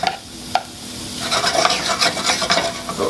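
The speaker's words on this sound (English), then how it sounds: "So you can put your flames on medium heat and allow it to saute for 1 minute" Shanghai noodles with shrimp stir-fried over medium heat, a steady close sizzle with scraping and stirring sounds that grow busier partway through.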